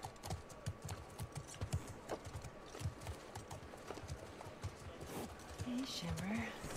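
Horse hooves clip-clopping in the video game The Last of Us Part 2, a steady run of close, quiet knocks at a walking pace, with a brief whinny-like sound near the end.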